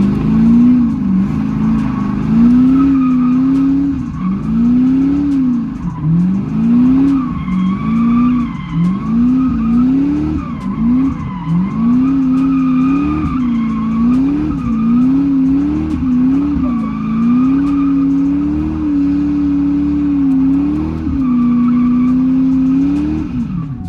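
A race car drifting in tight, controlled donuts, with its tires squealing and skidding in a steady pulsing rhythm over a loud, continuous engine roar close by, and no talking.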